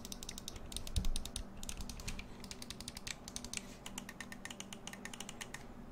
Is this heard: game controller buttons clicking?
yes